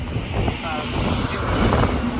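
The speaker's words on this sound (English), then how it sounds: "Steady wind from the east, which brought the waves, as you can see here." Steady east wind gusting across choppy open water, a low continuous roar with rumbling buffeting near the microphone, swelling slightly toward the end.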